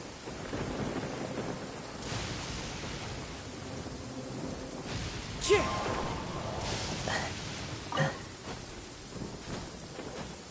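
Steady rain and rolling thunder in a video game downpour, a dense hiss throughout with several louder thunder swells, while people talk over it.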